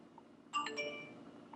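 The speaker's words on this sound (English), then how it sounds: "I get an SMS here, as you can see on this notification." SMS notification chime from a FIAT car's Blue&Me hands-free system, a single short bright two-note electronic tone heard clearly inside the quiet cabin.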